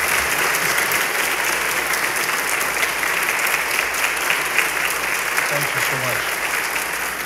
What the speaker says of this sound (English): Let's give Adam a great round of applause as we welcome him to come.